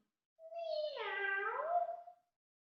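A single drawn-out meow voiced by a person imitating a kitten, rising then dipping in pitch, clear and close, with no other sound around it.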